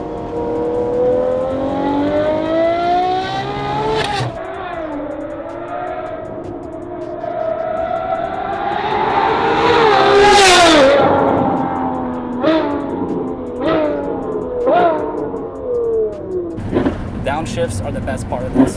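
Ferrari 812 Competizione with a full titanium exhaust and open valves, heard from inside with the windows down, screaming up through the gears in long rising pulls, with sharp shift cracks and a loud peak, while occupants talk over it.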